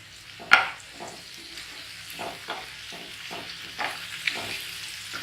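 Onion paste ground on a stone slab fries in a pan, a soft sizzle broken by a sharp clatter at the start and then intermittent scraping strokes of a spoon.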